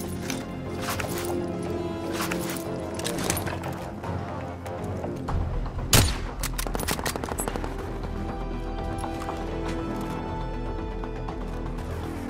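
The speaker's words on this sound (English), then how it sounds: "Receiving hostile fire." Hostile gunfire in Call of Duty: Modern Warfare: scattered bursts of automatic fire and single shots at moderate distance, irregular throughout, over steady background game noise.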